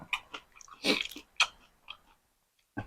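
Crispy fried pork tail being bitten and chewed up close, a few crunchy bursts with short pauses between them and no talking.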